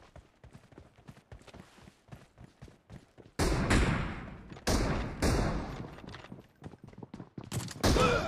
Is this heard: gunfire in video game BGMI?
yes